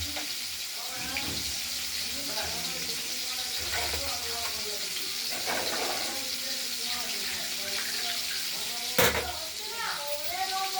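Pieces of katla fish frying in hot oil, a steady sizzling crackle that runs throughout while someone talks over it, with one sharp clatter near the end.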